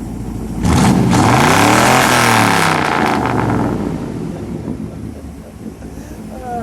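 A 1957 Ford Fairlane 500 Skyliner retractable is revved hard close by, a loud engine roar climbing and holding for about two seconds before easing off to a rumbling idle.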